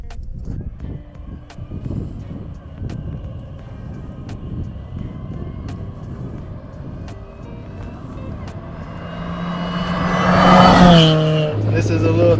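A supercharged 4-cylinder sleeper car with a rising supercharger whine building into a loud, hard pull near the end, over a steady engine drone and road noise.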